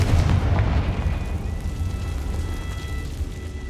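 A Confringo blast spell from the Hogwarts Legacy video game rumbles loud and continuous, with deep booming low end and a sustained crackling roar throughout, alone without talk.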